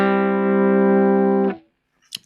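A sustained electric guitar chord through a clean Marshall amp rings out clean and full for about a second and a half, then cuts off, followed by brief faint handling noises.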